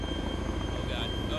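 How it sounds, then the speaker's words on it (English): Attack helicopter in a video game, a steady rotor thump and engine drone running through the short clip at moderate level, with talking over it. "Okay, we'll get an attack helicopter."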